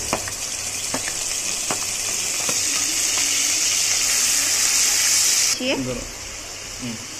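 Onion paste frying in hot oil gives a steady, close sizzle with scattered stirring clicks, then quiets and shifts toward softer scraping near the end.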